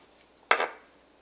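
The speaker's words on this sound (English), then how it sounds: "And just cut your roast." A knife slices through a medium-rare bison meat roast in a single short, close scrape, with quiet before and after.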